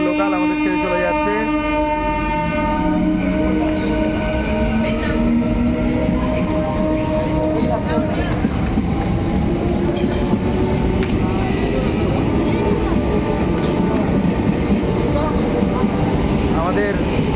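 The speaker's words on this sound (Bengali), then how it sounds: "দেউলটি স্টেশন আমরা নামলাম এবং ট্রেন এই মেদিনীপুর লোকাল আমাদের ছেড়ে চলে যাচ্ছে।" Medinipur local train pulling away from Deulti station, a sustained rumbling roar with drawn-out tonal whines and shifting pitch, loud and close, with people talking over it on the platform.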